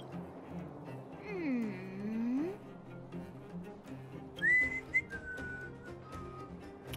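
A man in the Honkai Star Rail video game whistles a short sliding tune, then gives a few brighter whistled notes, heard clearly over a soft background music bed.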